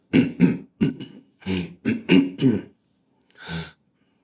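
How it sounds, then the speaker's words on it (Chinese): A man coughs and clears his throat repeatedly, about eight rough, close bursts in quick clusters with short pauses, then one last cough after a brief silence; he has had the cough for several days. "咳嗽几天了"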